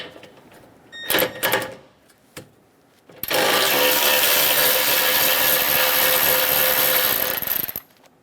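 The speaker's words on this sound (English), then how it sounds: "Using a 13mm socket, we're going to remove the bolt in the middle of that support." A 13mm socket removes the bolt from a support while an AC condenser is replaced on a 2014-2018 Chevrolet Silverado: a few sharp clicks, then a loud, steady whirring drive for about four seconds that cuts off abruptly.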